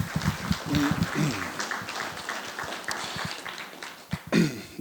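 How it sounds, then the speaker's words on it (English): An audience at a food desert summit gives a round of applause, scattered moderate clapping at close range with some voices mixed in, thinning out before a final burst near the end. "Let's give them a round of applause."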